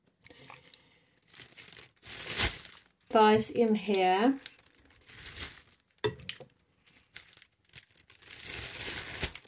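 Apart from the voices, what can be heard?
plastic bag crinkling while chicken thighs are put in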